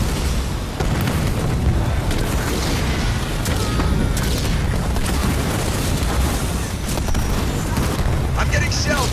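Artillery shells pound a battlefield in the strategy video game Halo Wars 2, heavy booms and blasts rolling continuously under a dense layer of game noise for the whole stretch.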